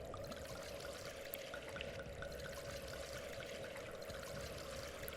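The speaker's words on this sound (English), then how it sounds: "Just go ahead and pour it all in here so it doesn't go out." Gasoline poured from a can in the horror game Darkwood, a steady, faint liquid stream with no pauses and no voices.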